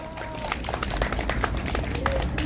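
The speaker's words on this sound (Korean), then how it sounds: "박수 한번 보내주십시오." A crowd at a Korean presidential election rally applauds, a dense patter of clapping with faint voices mixed in.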